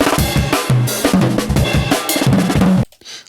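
Drum beat loop played back in Ableton Live, loud punchy hits with a busy repeating groove and tonal low thumps, cutting off abruptly near the end with no talking.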